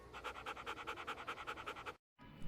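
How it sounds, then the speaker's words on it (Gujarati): Close, rapid panting from a dog repeats in a regular rhythm for about two seconds, then cuts off with a short silence before faint noise returns. "આ છે કૂતરો."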